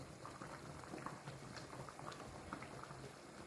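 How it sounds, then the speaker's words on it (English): Achi soup bubbling steadily in a pot, a faint, dense simmer of small pops and gurgles running continuously without pause or voices. "Now let's check on the soup. It's bubbling. Really bubbling."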